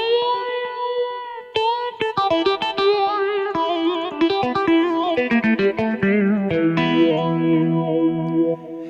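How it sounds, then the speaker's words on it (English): Keyboard notes from a Ketron SD90 play a bright melodic line with effects, each note trailing into a roomy reverb wash that blurs the phrases together. "when I added a reverb, I put my sound with effects in a space together"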